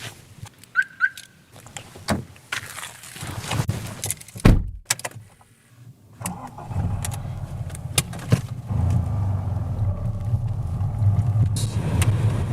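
A car is reparked off-road at a campsite: a door thunks and a chirp sounds, then the engine starts and idles and moves with a low steady rumble, close and outdoors.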